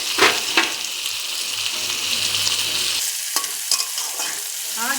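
Food frying and being stirred in a pan for paneer butter masala, a loud steady sizzle broken by several scraping stirs that grow sharper and more frequent toward the end.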